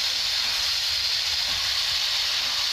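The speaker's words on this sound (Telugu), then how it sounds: "టమాటాలు ఫ్రై అవ్వడానికి 5-10 మినిట్స్ అవుతుంది" Tomatoes frying in a pan for South Indian tomato rice give a loud, constant sizzling hiss that stays even and unbroken throughout, with no voices over it.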